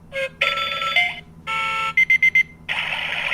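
An Oregon Scientific talking countdown timer sounds its kettle-like alarm: loud, shrill warbling tones in separate bursts, then a quick run of four short beeps and a final sustained tone.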